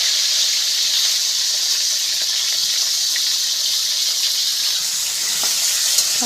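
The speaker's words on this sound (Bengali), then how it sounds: "পটলগুলো ভেজে নেব।" Pointed gourd (potol) frying in hot oil in a wok makes a loud, steady, close hiss and sizzle that goes on without a break.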